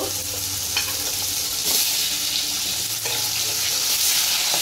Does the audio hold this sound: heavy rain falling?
no